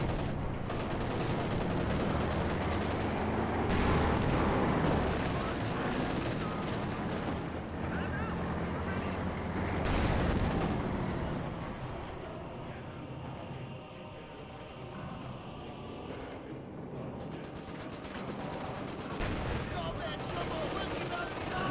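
Artillery barrage in Company of Heroes 2, a dense, continuous roar of explosions and gunfire that stays loud throughout, with a voice talking over it.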